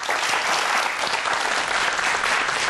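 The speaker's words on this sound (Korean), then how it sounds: "큰 박수 부탁드립니다." Steady, dense applause from a large audience at a televised startup lecture in Korea, welcoming a former chief aide to a National Assembly member as he takes the stage; loud and continuous for the whole stretch, with no talk over it.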